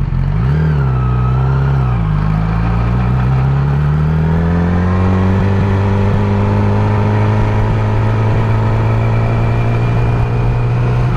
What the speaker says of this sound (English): right now I'm going to test the bike again on first gear